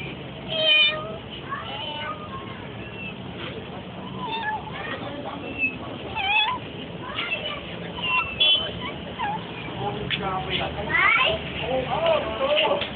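A cat meows several times amid a noisy room, with children and adults chattering and laughing over it throughout; the meows come in short bursts, fairly close.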